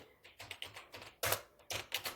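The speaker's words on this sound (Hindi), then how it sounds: "वो 2 उंगलियों से अपनी टाइपिंग करना स्टार्ट कर देते हैं" Key presses on a computer keyboard during a typing lesson, coming as a slow, uneven series of distinct clicks spaced by short gaps, with several sharper, louder strikes.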